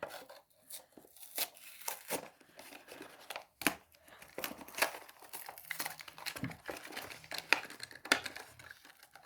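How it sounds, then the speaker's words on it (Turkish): A Hot Wheels Porsche 911 GT3 RS toy car package is opened close by, giving quiet crinkling, tearing and scraping bursts of plastic and card. The sounds come in an irregular run of small clicks and rustles with no talking. "Arkadaşlar bugün bakın görüyorsunuz Hot Wheels açıyorum."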